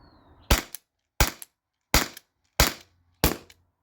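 T4E HDP50 Gen2 air pistol fired five times in quick succession, each shot a sharp, loud crack with a short tail, spaced roughly evenly about two-thirds of a second apart.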